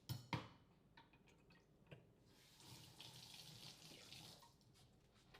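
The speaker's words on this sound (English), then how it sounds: "Let me wash the new spoon." A spoon being rinsed under a running kitchen tap: a steady hiss of water hitting metal and the sink, with a sharp clink at the start and small knocks, close and quiet, with no talking.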